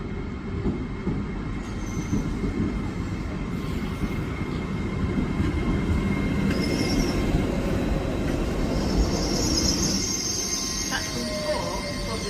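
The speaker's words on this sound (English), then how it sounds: "This is the train that was due 55 minutes ago." A late-running train pulling into Doncaster station: steady rumble of wheels and carriages with squealing brakes and flange screech, fairly close and continuous, with faint voices in the background.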